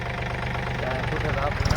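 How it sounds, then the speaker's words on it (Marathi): A small tractor ridging a groundnut field runs with a low, rapid engine throb, pulsing steadily at close range for a moment under a person talking. "बघा ट्रॅक्टर बारका ट्रॅक्टर चालू आहे"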